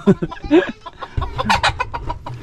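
Chickens cluck in short, choppy bursts close by, with sharp calls overlapping in a busy farmyard coop and a low rumble of background noise underneath.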